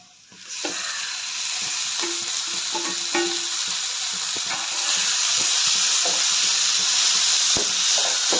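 Tomatoes and onions sizzle and hiss steadily in a hot pan for shakshuka, a loud continuous fry with occasional stirring clicks and scrapes throughout.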